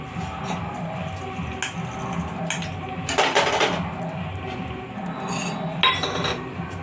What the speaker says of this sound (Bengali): আমি কয়েকটা বাটি নিয়েছি বাটির মধ্যে আমি তেল গুলিয়ে নিচ্ছি